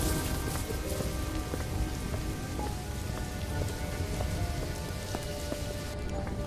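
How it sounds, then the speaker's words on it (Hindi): Heavy rain pours steadily on a stormy night, a dense, loud, unbroken hiss of drops striking surfaces with no pauses or voices. "रास्ते में बहुत जोरों से बारिश शुरू हो जाती है"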